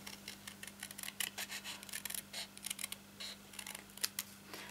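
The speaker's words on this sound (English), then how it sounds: "I find it a lot easier to get my scissors in here to cut down and round" Scissors snip through card stock while a handmade heart card is being shaped, a close, quiet run of short, irregular cutting clicks and crunches with no talking.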